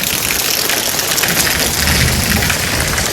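Heavy monsoon rain pours down in Gariyadhar, a loud, dense and unbroken roar of falling water close by.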